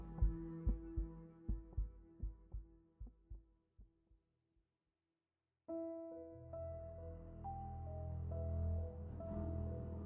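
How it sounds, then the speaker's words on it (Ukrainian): A heartbeat sound effect thumps in a steady rhythm that gradually slows and fades to silence. A low, swelling dark musical drone follows. "Моє серцебиття сповільнюється, ніби в грудях не залишилося місця для нього."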